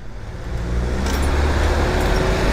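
Dense city road traffic heard from a moving motorbike, a steady roar of car and bus engines with rumbling wind that swells over the first half second and then holds loud and close, with no talking.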